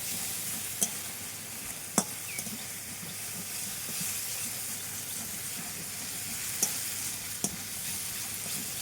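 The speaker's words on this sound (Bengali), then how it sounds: "মশলাটাকে ভালো করে কষিয়ে নেব" Spices with salt, turmeric and Kashmiri chilli powder fry in a pan for a Bengali jackfruit and prawn curry, giving a steady close sizzle and hiss with a few sharp clicks of stirring.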